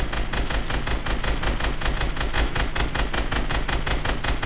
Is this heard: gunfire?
yes